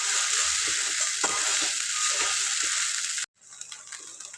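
Khichdi being stirred in a pan with a slotted spoon, with a steady loud sizzle of frying and soft scraping strokes beneath it, cut off abruptly near the end.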